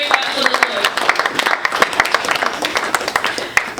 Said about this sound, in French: If you're here, clap to the Lord.